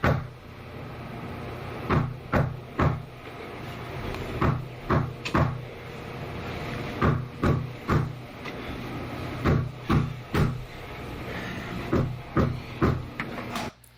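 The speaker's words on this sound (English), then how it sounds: "There's been someone knocking at my front door for the last 10 minutes or so, and they haven't stopped knocking." Someone keeps knocking at a front door, sharp hollow raps repeating in irregular pairs and small clusters over steady low room noise, heard from somewhere inside the house.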